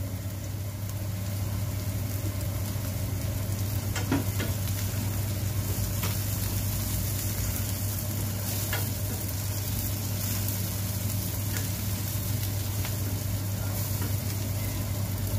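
Canned tuna sisig with chili sizzles in a small wok, a steady, even frying hiss under a low continuous hum, with a few faint stirring clicks and no talking.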